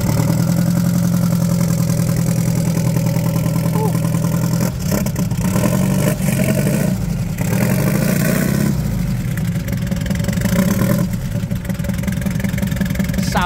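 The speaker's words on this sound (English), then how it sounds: "Now, come tell Owens here why this engine sounds so lekker" Turbocharged VW Superbug engine idling in the rear boot: a loud, steady, close rumble that runs throughout with slight dips in level and no talk over it.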